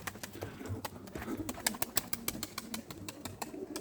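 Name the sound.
pigeon cooing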